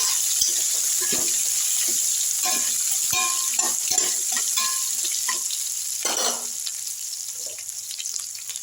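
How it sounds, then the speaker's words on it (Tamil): Onions sautéing in a pan with green chillies for wedding-style sambar rice: a steady sizzle with intermittent scraping stir strokes, close and continuous, no talk. "வெங்காயம் வதக்கி விட்டுடலாம் வெங்காயம் வதக்கிடலாம்"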